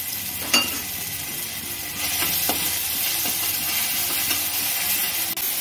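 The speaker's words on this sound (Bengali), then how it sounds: "তেলটা গরম হয়ে গেছে, এর মধ্যে একদম অল্প করে রাঁধুনি ফোড়ন দেবো ও বেটে রাখা মশলাটা এর মধ্যে দিয়ে দেবো।" Radhuni seeds and a ground spice paste sizzle in hot oil while Bengali pat shak jol shukto is cooked, with a steady frying hiss that swells near the start and keeps going with faint stirring clatter.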